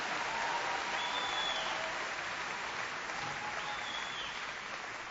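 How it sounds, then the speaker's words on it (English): A large town hall crowd applauds steadily and densely, a sustained wash of clapping heard from within the audience with no break for the full length. "I want you to applaud them anyway"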